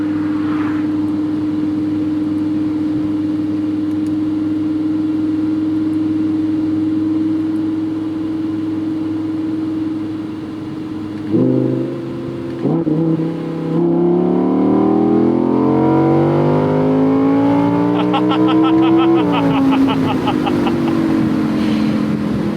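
Engine of a 2018 Audi R8 V10 Plus Spyder in performance mode, a steady loud idle hum that jumps into rising revs, climbing in pitch through repeated gear pulls before settling back, close and continuous.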